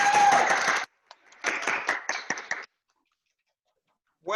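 Children at a Year 2 leavers' school assembly burst into a big round of applause, loud and dense for under a second, then a second longer burst of clapping that thins out and stops, with a brief voice at the very end.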